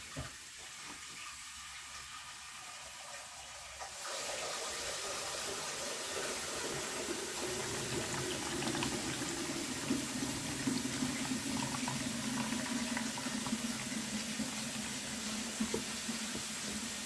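Tap water running into a pot for making passata from home-grown tomatoes, a soft trickle that swells into a steady loud gush of filling water after a few seconds, with no talking.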